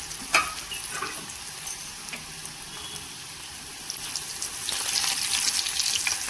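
Potato fries for crispy French fries frying in hot oil, a continuous close crackling sizzle that grows fuller and brighter toward the end.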